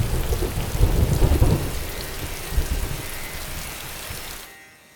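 Heavy rain pours down hard with deep rolling thunder rumbling through it, loud and continuous before cutting off sharply near the end.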